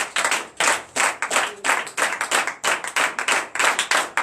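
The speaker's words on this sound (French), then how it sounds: "Donc je vous demande d'applaudir très fort." A church congregation claps together in a fast, steady rhythm, loud and close, with no talking.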